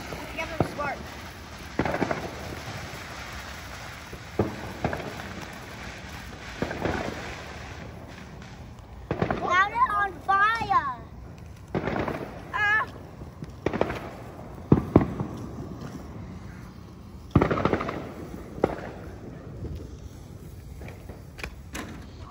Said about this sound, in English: Look, I think there are fireworks in there.